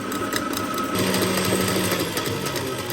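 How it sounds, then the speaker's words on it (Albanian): An electric mixer whirs steadily, beating eggs with sugar and vanilla sugar into a creamy mixture, a loud continuous motor drone with a rhythmic churning pulse and no talk. "i përzina pra vezët në mikser derisa të bëhet një mos kremoze"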